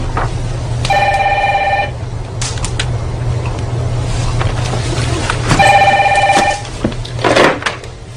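An old-style telephone bell rings twice in long bursts, loud and near, over a low steady hum of traffic outside, with a few faint knocks between the rings.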